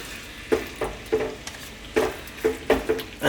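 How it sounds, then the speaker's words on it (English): Chunky cut beef sizzles in olive oil in a pan over just-below-medium heat, a soft constant frying hiss broken by about ten light scraping stirs at an irregular rhythm. "let's just cook this in the oil on a kind of just below a medium heat for about 4 to 5 minutes"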